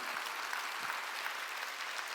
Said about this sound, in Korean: 깨달은 사람만 박수를 하게.